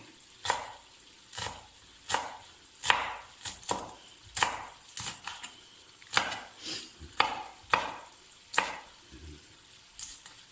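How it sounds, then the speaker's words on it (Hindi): Rough chopping of four green chillies with a knife on a board, a run of irregular sharp taps about once or twice a second, close and clear with no talk. "ये 4 अदद हरी मिर्चें, इनको हम रफली चॉप करेंगे।"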